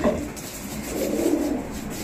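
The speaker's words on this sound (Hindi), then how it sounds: "माशाल्लाह ज़बरदस्त कबूतर है ये, नर है ये" A male Rampuri pigeon gives soft, low cooing close by, a brief murmuring call over quiet background.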